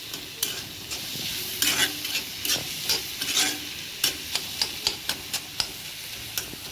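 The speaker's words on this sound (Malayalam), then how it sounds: "തക്കാളിയും ഇട്ട് കൊടുത്തു നമ്മൾ അതും കൂടി ഇങ്ങനെ മിക്സാക്കി" Tomatoes are stirred into chicken masala frying in a pan, a continuous sizzle broken by a series of sharp spoon scrapes and taps against the pan, close and fairly loud.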